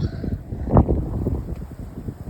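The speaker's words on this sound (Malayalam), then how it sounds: "നല്ല കാറ്റുണ്ട് അത്യാവശ്യം." Strong coastal wind buffets the microphone at Seaham beach in England, a rumbling low roar with a louder gust near the middle.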